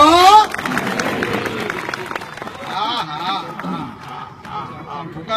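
Audience clapping at a Gujarati dayro folk performance, a dense burst of applause that rings out loudly at first and then continues steadily under a crowd's hubbub and a speaking voice.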